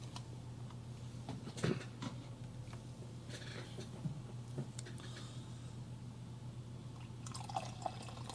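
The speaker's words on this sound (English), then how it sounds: "So we're going to add hot water" Hot water poured into a coffee brew for a 12-ounce cup, heard as a quiet trickle with drips and small splashes over a low steady hum.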